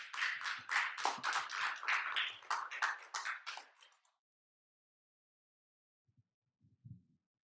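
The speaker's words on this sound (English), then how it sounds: "I would like to invite a round of applause from my fellow storytellers" A small group of storytellers at the Colby College Men's Story Project claps in a quiet room. The close, crisp claps last about four seconds, then stop abruptly into near silence with a few faint soft sounds.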